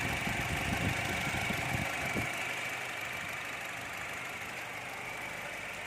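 A repaired radiator fan motor on a Honda Brio whirs steadily as a constant mid-pitched hum. A brief clunk comes near the start, and the sound settles into an even drone, moderately close, with no talk.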